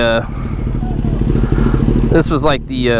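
A 2022 Kawasaki Ninja ZX10R motorcycle hums steadily while riding, its engine drone and wind noise continuous beneath someone talking close to the microphone.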